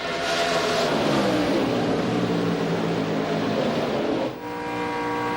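NASCAR Craftsman Truck Series race trucks at Dover circuit roar through a corner, engine pitch sweeping down as they brake into the turn, then a sharp cut and rising whine as another truck passes, loud and continuous.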